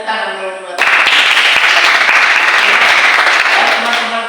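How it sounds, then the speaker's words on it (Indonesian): A classroom of students breaks into loud, close clapping after a short spoken opening, the applause staying dense and continuous to the end. "Ya, kita tepuk tangan dulu buat"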